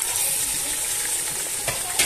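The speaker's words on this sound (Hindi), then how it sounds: "ये हो रही है मेरी प्याज लाल, अब मैं इसमें कच्ची पकी करके मैं इसमें अभी झींगे ऐड करती हूँ और झींगों के साथ अदरक लहसुन ऐड करती हूँ" Onion, prawns, ginger and garlic frying in a pan in a home kitchen, a steady close sizzle with light stirring scrapes throughout.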